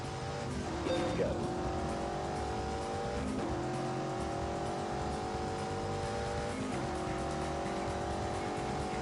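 BMW 8 Series with four-wheel steering driven in The Grand Tour video game on PS4, a steady engine drone rising through gear changes with tyre squeal, continuous and moderately loud.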